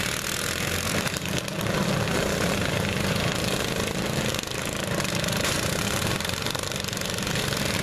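Small lawn mower engines droning together at a Fisher, Illinois lawn mower demolition derby, a dense, loud, continuous buzz with occasional rougher bursts and no talking.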